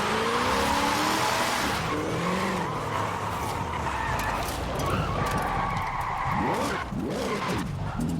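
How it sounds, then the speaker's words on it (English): A car engine revs hard and climbs through the gears while the tires lose grip, with a loud, continuous engine roar, rising and falling pitch sweeps at each change, and tire squeal near the end. "So we'll put it up and get up to speed first, and we'll stick it to fifth gear."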